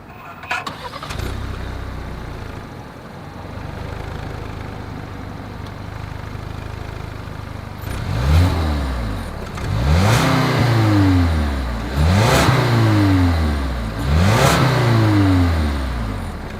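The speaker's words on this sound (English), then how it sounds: "As always, here is that exhaust clip." 2020 Lincoln Nautilus with dual chrome-tipped exhaust idling low before a series of four sharp revs that each rise and fall, loud and nearby with no talking.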